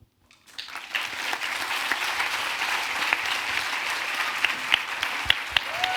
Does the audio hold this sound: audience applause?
yes